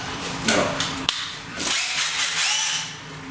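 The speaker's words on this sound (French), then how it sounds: "la perceuse, la visseuse, voilà, équipée de la batterie" Bosch GSR 12V-15 cordless drill driver with a 2 Ah battery, motor whirring in short bursts and pitch shifts, close and loud, with a couple of sharp clicks and no talking.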